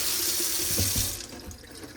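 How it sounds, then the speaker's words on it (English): Water gushes from a kitchen faucet in an updated apartment, a steady, loud hissing flow that is cut off about halfway through, leaving faint drips and room noise. "let me check the water pressure. Water pressure is good"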